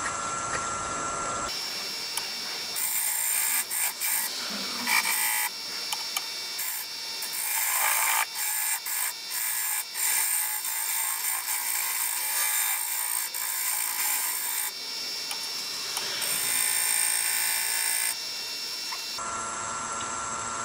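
Wood lathe cutting a chamfer on a turned wooden lighthouse with a bedan tool, a steady hissing scrape with a whining tone and small fluctuations, close and continuous, no speech.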